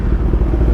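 A Kawasaki Ninja 1000 motorcycle rumbles loudly and close by with a deep, steady engine note through the whole short moment, and no one speaks over it.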